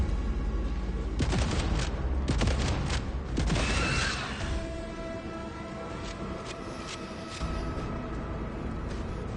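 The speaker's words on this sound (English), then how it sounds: "Shotgun." Shotgun fire in the video game Aliens: Rogue Incursion on PS5, several loud close blasts in a quick burst early on, then fading into a quieter rumbling game ambience with a few lighter clicks.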